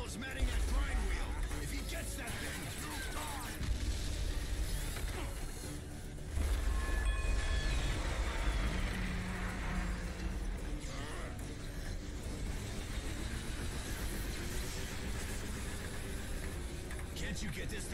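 A train in Bulletstorm: Full Clip Edition rolls along with a continuous loud rumble and rattling wheels, under voices talking over the noise.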